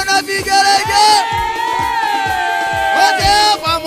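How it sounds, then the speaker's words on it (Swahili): A church congregation at a Kikuyu service ululates loudly in high trilling cries over crowd cheering and whoops, with rhythmic low beats throughout. "haya wabishangwe na vigelegele kwa Yesu"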